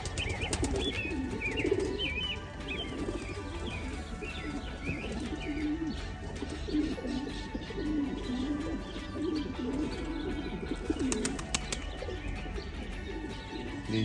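Young homing pigeons at a backyard coop coo softly and repeatedly, with occasional chirps and brief wing flutters, against a steady low background hum.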